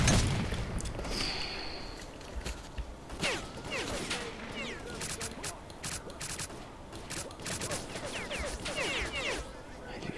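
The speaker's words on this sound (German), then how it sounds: "Heilige Scheiße, kommt da viele Schüsse rein." Scattered gunfire in the video game S.T.A.L.K.E.R. Call of Pripyat, repeated shots and bursts at moderate distance over a noisy, rumbling background, with no talk.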